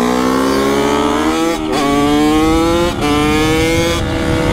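A Kawasaki KX65 dirt bike with new wheels, tires and a one-tooth-smaller rear sprocket, ridden with its small two-stroke engine buzzing loud and close, pitch climbing steadily through each gear, with brief dips at shifts.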